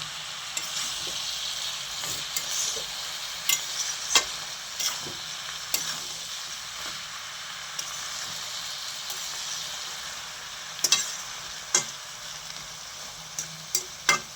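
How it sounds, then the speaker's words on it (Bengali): Mixed vegetables cooked in fish oil sizzle softly in the pan while a spatula scrapes and knocks in uneven bursts, the sharp stirring clatters standing out over a constant low frying hiss. "আর একটু কষাবো জিনিসটা ভালো করে মাখা মাখা করবো"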